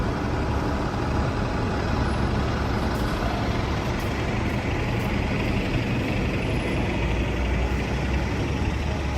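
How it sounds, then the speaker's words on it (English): A bus engine rumbles on a New York City street in SoHo, a loud, steady low drone of idling and traffic filling the whole stretch without a break, with no distinct air brake hiss standing out. "Buses are coming out today."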